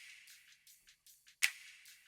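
Snappy finger-snap drum samples in an EDM/rock remix, played back alone as a sparse rhythmic pattern of short bright hits, with one louder, sharper snap standing out near the end.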